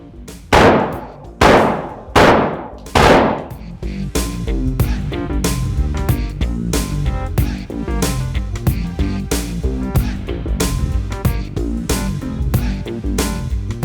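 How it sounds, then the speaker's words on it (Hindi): Gunfire from newly assembled weapons being test-fired at a testing spot in the Dara Adam Khel weapons market, Pakistan: three loud, sharp single shots, then a dense run of rapid repeated bangs in close succession. "टेस्ट करते हैं फायर कर करके, और मुख्तलिफ वक्फे से ये फायर करते हैं"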